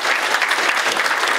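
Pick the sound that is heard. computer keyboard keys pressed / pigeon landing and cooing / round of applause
round of applause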